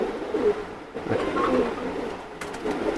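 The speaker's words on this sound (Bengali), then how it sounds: "অনেক ভালো সাইনিংয়ের একটা মাদি কবুতর এটা" A female Teddy pigeon with shiny red plumage coos softly and continuously, a low, close rumbling call with no talk over it.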